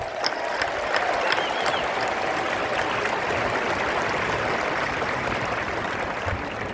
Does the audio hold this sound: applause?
yes